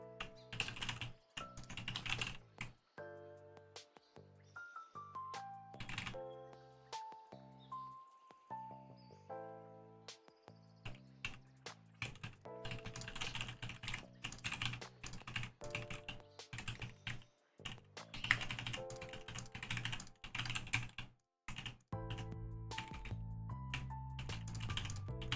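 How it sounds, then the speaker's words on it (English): Rapid bursts of computer keyboard typing, near and clear, with dense key clatter alternating with short pauses, over a rhythmic electronic music track during rhythm-game practice. "I'm out here sound like I'm typing up an essay out here"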